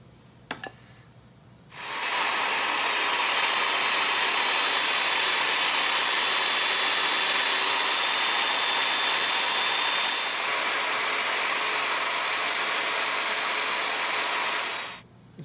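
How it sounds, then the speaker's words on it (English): A Domino joiner power tool cuts mortises into the top of a wooden leg at 15mm depth, a loud, steady motor whine with a dust-extraction rush that starts abruptly, holds for about thirteen seconds, then stops. "it's now time to cut the mortises in the top"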